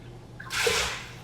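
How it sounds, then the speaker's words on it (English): A cup of water is poured into a pot of black beans, a short splashing gush under a second long that rises quickly and fades after a quiet moment. "So now I'm gonna add 4 cups of water because I added 2 cups of black beans."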